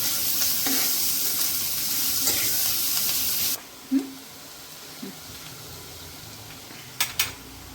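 Onions fry in a pan until reddish for a spinach and chickpea masala, with a loud, steady sizzle and a few stirring scrapes that cut off abruptly partway through, leaving near quiet broken by faint clinks of utensils.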